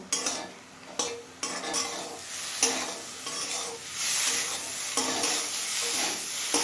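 Spice paste with ridge gourd stir-fried over a medium flame, a steady sizzle with repeated scraping strokes of a spoon against the pan, close and continuous, no voices.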